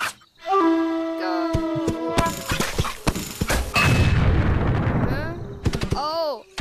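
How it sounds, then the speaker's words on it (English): A bomb explodes when it is sliced in the video game Fruit Ninja, a loud crackling blast that rolls out amid busy game effects and music, with a few sharp slashing sounds around it. "When you hit bombs, you lose points."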